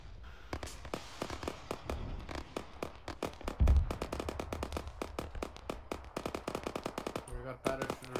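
Machine gun suppressing fire in ArmA 3 rattles off in steady rapid bursts, sharp evenly spaced shots continuing throughout with a heavier thump near the middle, moderately distant.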